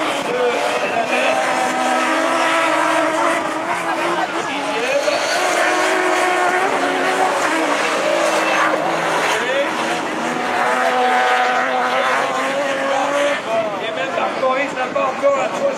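Rallycross race cars in the final at Châteauroux: a continuous, loud roar of engines rising and falling as they rev and shift, with a commentator talking excitedly over it throughout.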